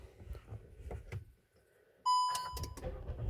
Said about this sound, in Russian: Зуммер нам пищит.